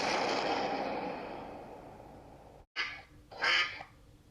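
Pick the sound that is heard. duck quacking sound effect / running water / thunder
duck quacking sound effect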